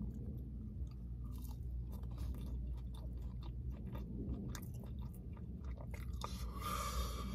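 Close chewing of Peruvian food dressed with a spicy green sauce: steady wet mastication and soft crunches run throughout at a near, even level, with no talking.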